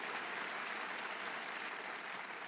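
Faint, distant applause from a church congregation during a sermon, an even, continuous wash of clapping lasting throughout without voices on top.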